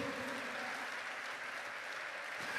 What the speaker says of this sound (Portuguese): Você pode aplaudi-lo